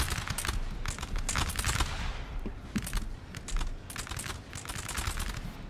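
Massed musket volleys crackle in a Napoleonic-era multiplayer video game battle with musketeers and grenadiers, rapid overlapping shots popping in dense bursts throughout, fairly quiet and steady.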